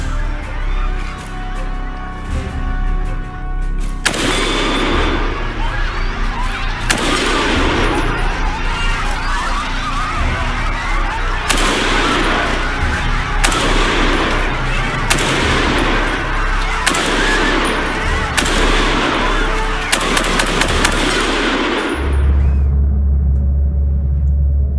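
Indiscriminate gunfire tears through a recording of a shooting massacre: dense repeated bursts of loud shots and crackling rounds, separated by brief pauses, with a low rumble underneath before an abrupt cutoff near the end.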